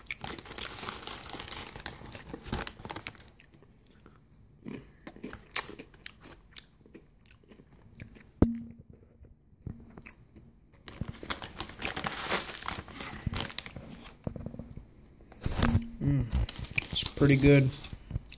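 Spicy chips being eaten with loud crunchy bites, alongside a crinkling snack bag, in bursts across the clip with pauses between them; a person speaks briefly near the end.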